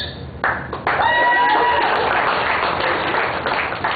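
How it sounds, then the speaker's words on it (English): Audience applause at a stand-up comedy set, a burst of clapping with some cheering that rises after a brief pause and stays loud and steady to the end. "Wait for applause."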